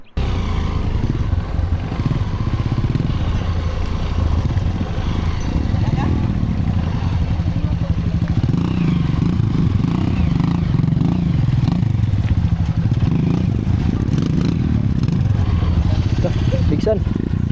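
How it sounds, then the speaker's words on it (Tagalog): A motorcycle engine runs steadily at close range for the whole stretch, with a low continuous rumble and some clatter, set in a rural spot in Mahayag, Zamboanga del Sur. "Kunin na natin yung motor natin."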